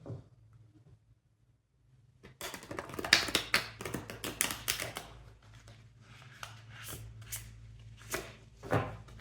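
A tarot card deck being shuffled by hand, with a quiet pause before a run of dense, crisp riffling and tapping bursts that carry on close up until the end.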